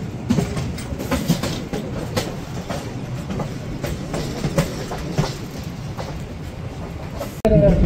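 The Gwalior–Sumawali MEMU train rumbles along the rails near Birla Nagar junction, with steady rhythmic clickety-clack from the wheels at close range, ending in a sudden louder burst of noise.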